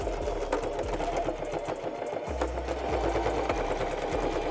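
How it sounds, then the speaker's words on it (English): A sewing machine stitches back and forth over a denim tote bag, its motor whirring in steady fast bursts with a rapid needle rattle, pausing briefly midway before stitching on. "I'm gonna go over back and forth with my sewing machine"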